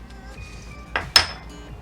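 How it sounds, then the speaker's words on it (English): Potatoes being tossed with garlic and dill in a bowl, giving two sharp clinks of a utensil against the dish, close and brief over a quiet kitchen background. "Now at this point, we want to mix it all up."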